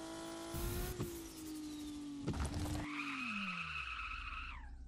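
Car in the game Car For Sale Simulator drifting, with a steady engine drone broken by two bursts of tire skidding, then a rising, squealing slide that winds down toward the end.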